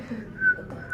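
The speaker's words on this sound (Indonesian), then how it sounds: "Siulku nggak sempurna." A faint, breathy whistle, a few wavering notes in quick succession, quiet and close.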